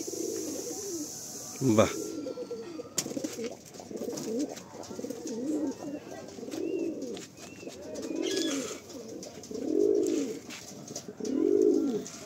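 Pigeons cooing in a full loft, a steady series of low rolling coos repeating every second or so, close by, with one brief spoken exclamation and faint background noise.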